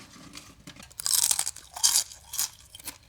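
Crisp oven-baked vegetable peel chips crunch in several close, dry bursts, loudest in the middle, with brief quiet gaps between bites.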